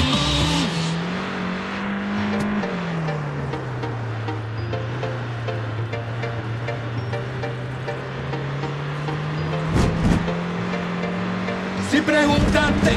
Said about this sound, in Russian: Возьмем автомобиль вот этот прекрасный.